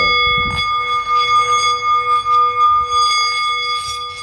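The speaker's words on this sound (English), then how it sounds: "That sound from that bell" A meditation bell rings with a bright, sustained metallic tone whose high partials hang and slowly fade, close and alone, with soft rustling beneath.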